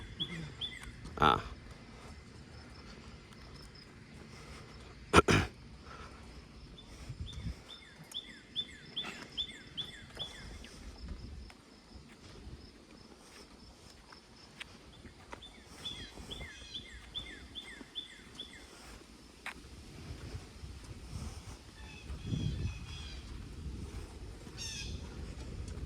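Birds call and chirp in scattered bursts from a distance, with squawks and a few sharp knocks; a person briefly vocalizes.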